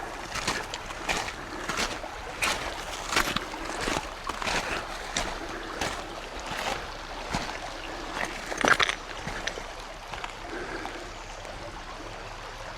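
A stream runs through an off-road water crossing on Old Mill Creek Road, with uneven sloshing and splashing surges of water recurring every second or so at moderate distance, and no talking.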